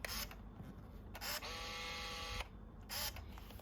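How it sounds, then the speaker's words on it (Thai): A Canon Autoboy Jet film camera fires in continuous shooting mode, giving short bursts of shutter and motor-drive whirring separated by brief pauses, close and quiet. "อันนี้ก็เป็นโหมดถ่ายภาพต่อเนื่อง ก็คือเรากดแช่ไปได้เลย"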